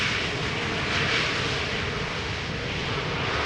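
easyJet airliner at Amsterdam Schiphol Airport, a steady broad jet engine roar at moderate loudness, heard alone without talk.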